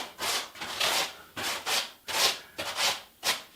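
Hand sanding of Venetian plaster scrapes back and forth in about eight short, rhythmic strokes, close and fairly loud, with no voices.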